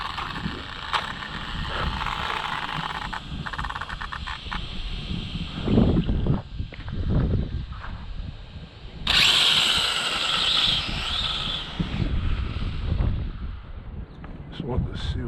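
A radio-controlled drag racing car makes a test pass on a no-prep track, its electric motor rising into a sharp, high whine for a few seconds among scattered handling noises and bumps nearby.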